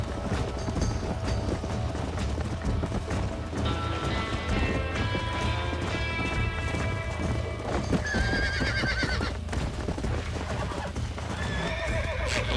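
Horse hooves clip-clop at a steady gallop in the Red Dead Redemption video game, with repeated loud neighs and whinnies cutting through continuous game sound and music.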